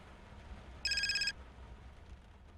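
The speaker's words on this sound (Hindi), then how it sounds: "फोन रिंग हो रहा है, उठाओ ना" A telephone rings once indoors in a home, giving a short, loud burst of rapid electronic trilling that rises sharply over a quiet background and stops abruptly after about half a second.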